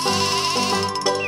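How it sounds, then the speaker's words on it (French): Cartoon sheep on a farm lets out a single loud, wavering bleat lasting just over a second, close and clear over soft background music. "un mouton"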